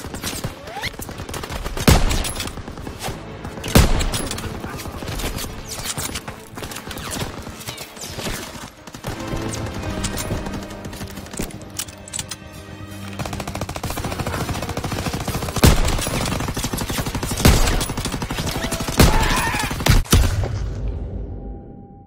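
Call of Duty WW2 D-Day campaign battle: loud, sustained machine gun bursts and rapid gunfire with booming impacts, continuous and close throughout the fighting.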